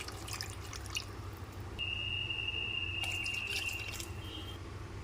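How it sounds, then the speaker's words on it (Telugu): Tamarind juice is poured into a pan of masala-coated fish curry with okra, a soft trickling and dripping of liquid, close and fairly quiet, with a faint high tone in the middle. "ఇప్పుడు ఇందులో చింతపండు రసం మనం ఏదైతే తీసుకున్నామో అది వేసేసుకుందాం"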